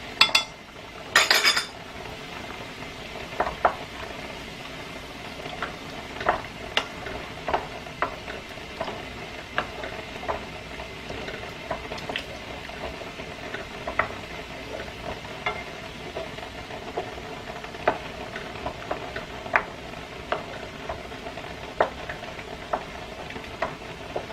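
Beef is stirred into tteokbokki in a pan with gochujang, and a utensil scrapes and clinks against the metal in scattered, irregular taps over a faint, steady sizzle.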